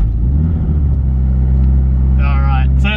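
A warmed-up 2.3L Mitsubishi Evo engine idles with a steady, loud low rumble, while a person talks over it near the end.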